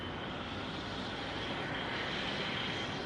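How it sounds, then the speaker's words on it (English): Boeing 737 MAX 8 airliner coming in to land, a steady broadband engine roar that holds evenly loud throughout with no voices over it. "It's a MAX 8 landing"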